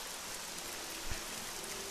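Steady rain in the video game Nehrim, an Oblivion mod, forms an even hiss of falling water with a faint soft thud partway through and no speech.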